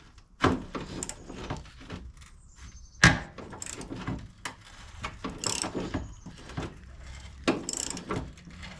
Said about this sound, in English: But I am just loosening these up right now.